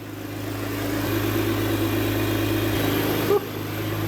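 A Porsche 911 Turbo engine idles steadily with a low, even hum and a faint rattle, close by, with a brief clunk near the end.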